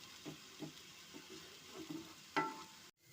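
Pointed gourd (potol) peels with salt and turmeric cooking in a pan over medium heat, with a soft low sizzle and several quiet stirring scrapes spaced through the short stretch, ending in a sudden cut.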